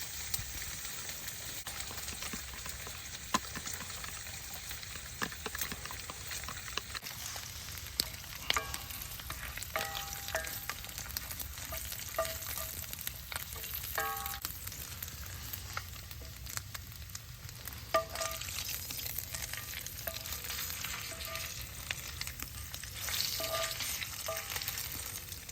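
French toast frying in a pan at a snowy bushcraft camp, a steady close sizzle and crackle with occasional stirring and scraping taps, no voices.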